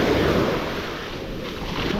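Ocean water washes back over the sand at a Manasota Key beach, a steady hissing rush of receding surf with some wind buffeting the microphone, and no voices.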